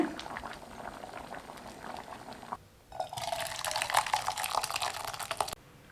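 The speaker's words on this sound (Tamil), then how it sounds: "நல்லா கொதிச்சு வந்துருச்சு" Mixed vegetable ragi flour soup bubbles and simmers steadily in a pot close by, with a brief dip before a louder, busier boil resumes.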